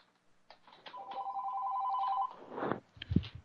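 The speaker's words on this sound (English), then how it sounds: "Have a phone ringing here, and I apologize for that." A telephone rings in a room during a lecture, giving a sustained electronic trill that holds for over a second before trailing off, followed by a few clunks and shuffles nearby.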